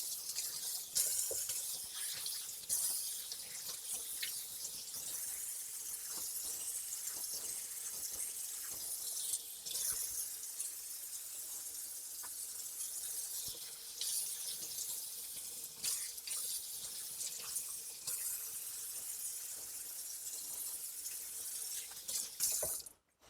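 Tap water runs steadily into a sink while walleye fillets are rinsed, a continuous close splashing with occasional small clinks and no talking.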